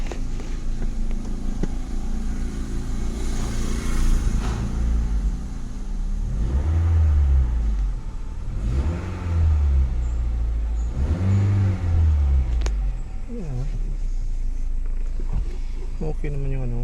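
A vehicle engine sits close by and is revved repeatedly in several rising, falling surges over a steady idle, with some talk between the bursts.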